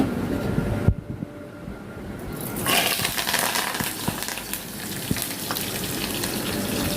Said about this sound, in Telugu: కొంచెం జీలకర్ర కొంచెం ఏంటవి మెంతులు కొత్తిమీర కరివేపాకు ఓకేనా ఫ్రెండ్స్ రెండు ఆయిల్ మరిగిపోయింది వేసేస్తున్నాను